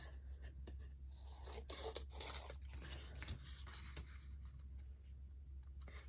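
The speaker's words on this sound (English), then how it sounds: "I'm just going to cut all this extra off." Scissors snip away excess paper in a quiet crafting setting, giving a series of close, soft cuts and scrapes in an irregular rhythm.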